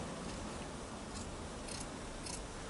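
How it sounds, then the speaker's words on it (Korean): Scissors cut through fabric for an ironing board cover, a quiet steady rasping slice with a few faint snips standing out, close and alone without any talk. "그러면 가위질 해보겠습니다."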